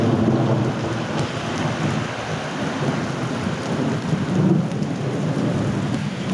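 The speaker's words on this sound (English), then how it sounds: "It's not raining like real bad, but it's raining pretty good." Steady rain pours down during a desert thunderstorm in Zacatecas, a dense, even hiss of falling drops with a low rumble of thunder rolling underneath throughout, no voices.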